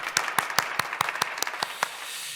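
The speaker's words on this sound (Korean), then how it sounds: "우리 하나님께 영광의 박수를 돌려드리겠습니다" Congregation at a Korean dawn prayer service clapping in praise: about nine sharp, evenly spaced claps in a steady rhythm, fairly close and distinct rather than a dense roar.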